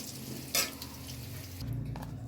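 Potatoes frying in oil in a pan, a quiet steady sizzle with a brief sharp clink or stir partway through and a low rumble near the end.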